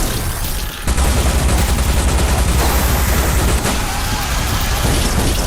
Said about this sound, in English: You can either shoot stuff with like a machine gun, you also have a cannon.